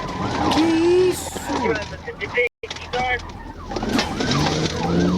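Police sirens wail in a video game police chase, several rising and falling tones over car engine noise and crashes, loud and busy, with excited talking over the top.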